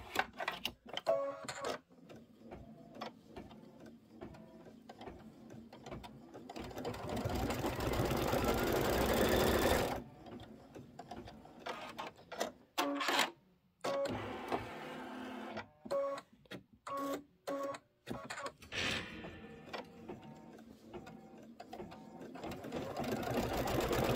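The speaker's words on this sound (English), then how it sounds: "And it's going to sew a quarter inch seam allowance." An embroidery sewing machine stitches a quarter-inch seam on a seasonal table runner, its steady rapid mechanical whirr running in bursts, broken by short pauses and stops between passes.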